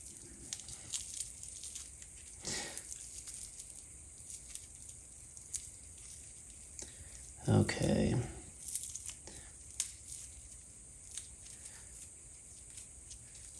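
A few scattered scrapes and rustles, then a brief, louder ripping burst as a box cutter tears open packaging holding a fig cutting, with quiet speech around it.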